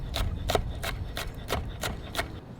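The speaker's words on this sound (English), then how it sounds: "we'll just kind of chop them into equal parts and then run a knife through them" A knife chopping vegetables on a cutting board for a grill stir fry, seven crisp, evenly spaced knocks in a steady rhythm, close and clear with no talk.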